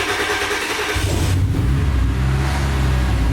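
A Lotus Elise/Exige engine fires up by push-button start after about a second, settling into a loud, steady low rumble that carries on with no talk over it.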